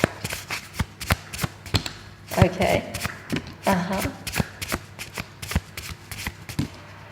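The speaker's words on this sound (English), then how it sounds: "I'm going to shuffle a little bit more." A deck of tarot cards is shuffled close to the mic in repeated quick riffles and sharp taps against a table, with someone speaking briefly between the bursts.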